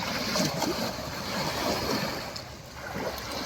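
Choppy, muddy river water breaks in waves under wind near a fishing spot, a continuous rushing wash that rises and falls with gusty buffeting.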